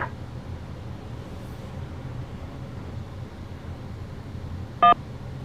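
A single short touch-tone beep from a telephone keypad press in a voicemail greeting menu sounds near the end, clear above a steady low hiss.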